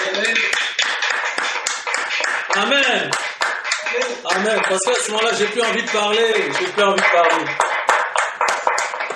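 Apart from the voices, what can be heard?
church congregation applauding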